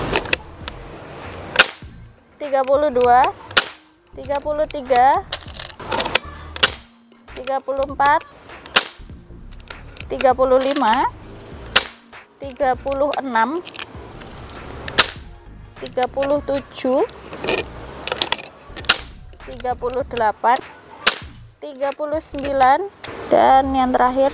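Sharp, repeated shots from an FX Airguns 500C bullpup PCP air rifle during a shot-count test, cracking at irregular intervals, with someone talking between them.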